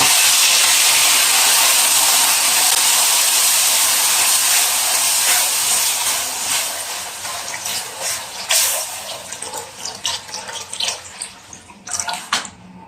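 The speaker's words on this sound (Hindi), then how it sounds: "उसके बाद हम इसमें डालेंगे दूध।" About a litre of milk is poured into hot roasted semolina for suji halwa, producing a loud, steady rushing hiss and bubbling sizzle that fades after several seconds into intermittent crackles and pops.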